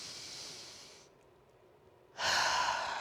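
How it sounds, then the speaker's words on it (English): Big, deliberate breaths drawn in a quiet room during a floor exercise session: a long noisy exhale fading to near silence, then a loud, forceful inhale, with no talking. "Big obnoxious breaths."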